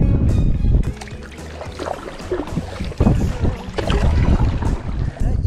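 A paddleboard is paddled across open water in a breezy spot, with rhythmic splashes and watery swishes of the paddle close to the microphone, backed by steady wind buffeting.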